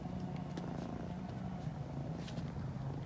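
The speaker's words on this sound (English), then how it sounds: "She's purring if you can hear it." A cat purring softly up close, an even low rumble that continues throughout without speech.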